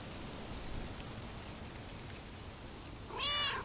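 Cats meow in the video game Lake, a short bright meow rising near the end over a steady hiss like rain that fills the whole clip.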